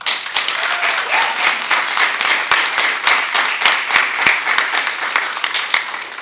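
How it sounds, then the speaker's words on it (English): A school board meeting audience applauds a high school student who won a state gold medal in piano, dense steady clapping from many hands filling the room for several seconds. "please give a big round of applause for our gold medal state winner in piano, Beller High School student Orlando Baca."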